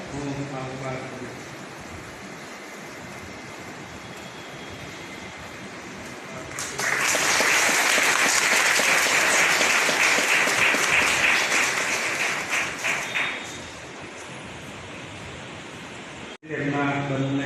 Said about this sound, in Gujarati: આપણે તાળીઓ પાડીને પ્રભુ કરીશું.